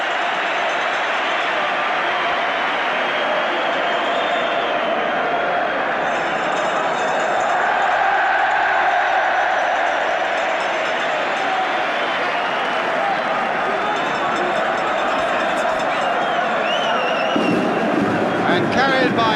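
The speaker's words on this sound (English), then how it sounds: "the Villa crowd are shouting, "We want Saunders!"" Aston Villa football crowd at the 1975 League Cup final against Norwich City, a dense, sustained roar of shouting, chanting and cheering from a large stadium, with a commentator speaking over it.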